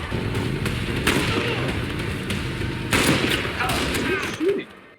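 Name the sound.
gunfire in a TV episode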